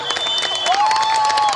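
Fans applaud during Marília Mendonça's funeral procession, a steady, loud wash of crowd clapping under whistles and voices.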